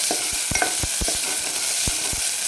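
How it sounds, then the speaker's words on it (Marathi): Green chilies sauté in a hot pan, sizzling steadily with repeated scrapes and knocks of a stirring spoon against the pan, close and alone with no one talking. "आपल्याला थोडंसं मिरची पण थोडी परतून घ्यायची होते"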